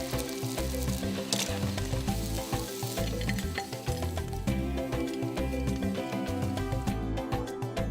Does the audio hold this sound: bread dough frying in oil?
yes